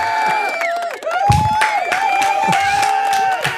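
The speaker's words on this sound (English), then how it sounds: "You're clapping and you're doing a round of applause." A studio audience erupts in loud cheering and shouting with applause, a dense steady crowd roar through the whole moment with high excited voices on top.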